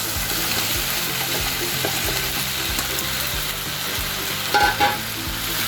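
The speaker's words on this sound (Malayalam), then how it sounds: "ഇനി നമുക്ക് ചിക്കന് ഇട്ടുപോകാം." Chicken pieces for Chicken 65 fry in hot oil with a dense, steady sizzle, punctuated by a few soft stirring clicks and a brief louder splutter near the end.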